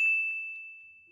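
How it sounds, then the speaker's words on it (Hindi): A large temple bell gives a single clear strike, its pure metallic tone ringing out and slowly fading over about a second. "मंदिर का घंटा बड़ा रखा हूँ, कोडे वो टन टन बजा जे।"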